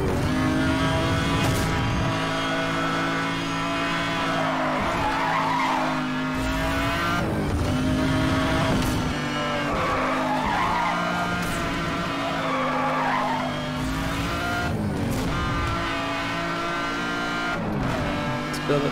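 McLaren F1 supercar engine in Need for Speed Hot Pursuit Remastered, a steady loud drone with shifting revs and tire skids throughout a time trial, game music layered underneath.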